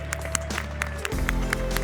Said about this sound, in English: Let's make some round of applause,